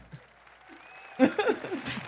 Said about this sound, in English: Let me give a little applause for that.